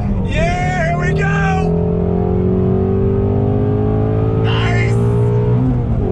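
A 2020 Ford Shelby GT350R accelerates hard on a track, its engine note climbing steadily in pitch, loud and close throughout, while someone talks briefly over it.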